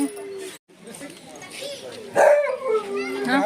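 A small dog yips and barks in short, high bursts amid people talking nearby, with a louder cluster of barks toward the end.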